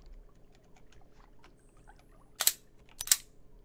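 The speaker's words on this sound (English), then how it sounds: "I'm shooting things that I don't need to shoot" Two sharp gunshots from the handgun shooter Receiver 2, spaced well apart, crack out over a quiet background with faint clicks and handling noises.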